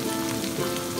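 Radishes stir-frying in a hot wok give a steady, close sizzle and crackle that continues evenly for a moment, with no talking.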